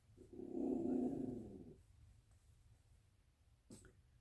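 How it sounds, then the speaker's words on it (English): Small dog growling, one low rumbling growl of over a second, soft and close, followed by quiet and a brief faint click. "my sweet little dog is starting to growl"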